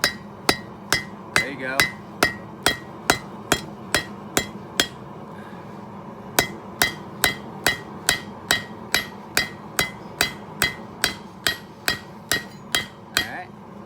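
Hammer striking hot metal during forging, a steady run of about thirty bright, ringing blows at an even pace with a short pause midway, close and loud over a low background hum; a brief spoken remark comes once.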